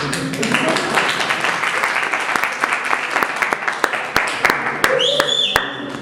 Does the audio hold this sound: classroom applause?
yes